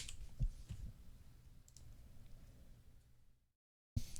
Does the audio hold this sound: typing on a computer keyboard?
yes